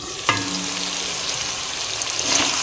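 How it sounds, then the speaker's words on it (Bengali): Marinated chicken hits a hot pan for chicken pulao with a sudden sizzling burst, then fries with a steady, close hiss while being stirred. "এবার এর মধ্যে ম্যারিনেট করা মাংসটা দিয়ে দেবো। মাংসটা দিয়ে নেড়ে চেড়ে চাপা দিয়ে কষিয়ে নেব।"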